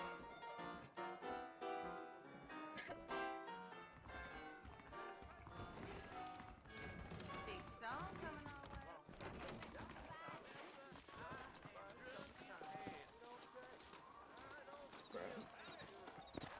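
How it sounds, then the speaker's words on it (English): Horse hooves clip-clop in a steady trotting rhythm in the video game Red Dead Redemption, with occasional whinnies, mixed under nearby talking voices and background music. "I got the horses saddled up and ready out front."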